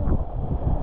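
Strong wind buffets the microphone on a fishing outing, a constant low rumbling roar that covers the whole brief moment.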